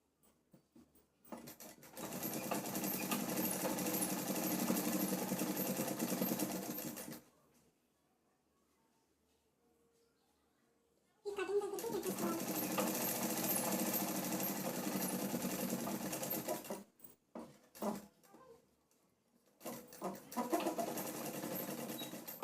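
Sewing machine stitching a Punjabi dress, two long runs of rapid buzzing needle action separated by a quiet pause, then shorter bursts, close and loud.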